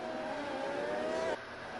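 Race cars idle and rumble on the starting grid before a formation lap in a racing video game, a steady engine drone with a rising whine that cuts off abruptly partway through.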